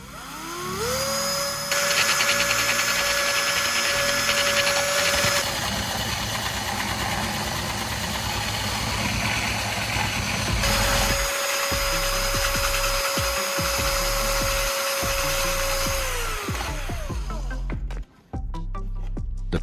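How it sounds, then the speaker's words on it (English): A power drill fitted with a coarse sanding roller runs continuously against a patched frame surface, a loud steady whine that shifts pitch as the load changes, then spins down near the end. "I'll turn on the drill and start sanding the surface roughly."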